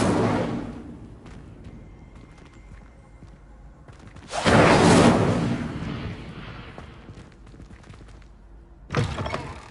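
An Incendio fire spell cast in Hogwarts Legacy: a loud whooshing burst of flame midway, rising sharply then fading over a few seconds, with another short burst at the end amid quieter game sounds.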